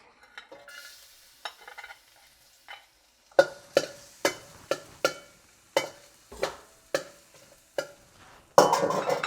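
Garlic goes into rendered chicken fat in a wok for Hainan chicken rice: a string of crisp, evenly spaced metal spatula strikes and scrapes, ending in a loud burst of sizzling.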